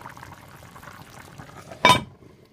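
A lid goes onto a pot of Jamaican curry chicken with a single sharp metallic clank after quiet bubbling and low rustling, then near silence.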